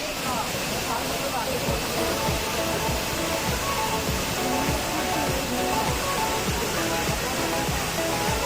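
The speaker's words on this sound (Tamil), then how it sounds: "அந்த அருவியோட சத்தம் செம்மையாக இருந்துச்சு" Waterfall in Coorg, fed by Kaveri river water, roaring in a steady, dense broadband rush that stays loud and constant throughout.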